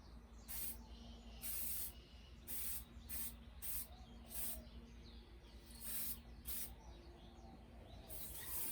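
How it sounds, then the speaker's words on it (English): Aerosol spray paint applied in light coats to a leather shoe, a series of short hissing bursts with pauses between them over quiet background hum. "When I'm applying the aerosol, I usually am about 12 inches away."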